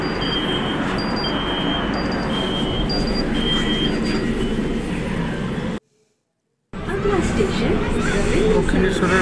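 A Kolkata metro train bound for Dakshineswar rumbles steadily with a loud, continuous roar and faint high whining tones, then drops out briefly before the rolling noise resumes.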